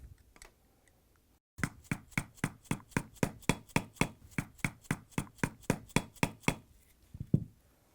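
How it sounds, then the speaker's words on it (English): A flat-blade screwdriver is struck to drive it into an old gearcase oil seal on a Whirlpool, KitchenAid or Maytag mixer, set against a wooden block: about eighteen sharp, evenly spaced knocks in a steady rapid run, close and clear, ending in a couple of duller thuds. "flat blade screwdriver. We will need to penetrate the old seal."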